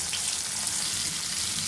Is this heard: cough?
no